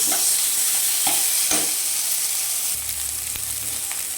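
Fish tossed with salt is stirred in a hot pan, the steady sizzle of frying running throughout with a few sharp scraping strokes of the spatula and a deeper bubbling hiss toward the end.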